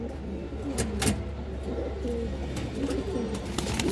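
Big-headed, large old-line high-flyer pigeons in a loft coo in a busy cluster of overlapping calls, near and steady, with light clicks and rustles over a constant low hum.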